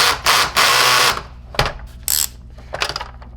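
Screws being adjusted on a Sanitaire S649 upright vacuum during a repair: a loud burst of power-driver whirring, then sharp metallic clicks and a short high whine, close and with no talk.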